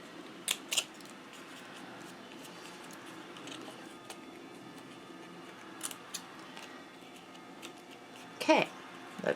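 Scissors cut fabric for a homemade scrunchie tower organizer: a few quiet, close snips scattered over several seconds against a soft room hum, with faint speech in the background.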